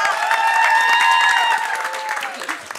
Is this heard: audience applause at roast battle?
yes